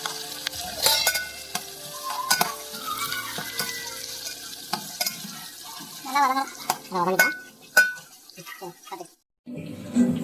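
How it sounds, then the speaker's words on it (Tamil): Onions fry until golden in a pan for biryani, a soft sizzle broken by intermittent scraping and clinks of stirring, with a few louder bursts near the end. "பிரியாணிக்கு நல்லா வெங்காயம் வதங்கி வந்துருச்சு நல்லா பொன்னிறமாக வதங்கிருச்சு"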